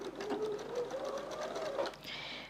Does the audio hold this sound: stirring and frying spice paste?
no